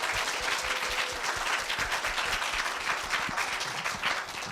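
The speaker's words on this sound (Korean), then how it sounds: "모두 박수 한번 치고 시작할까요?" Audience and contestants applauding at the opening of a middle-school speaking festival, a dense, sustained roar of clapping from a large crowd in a hall.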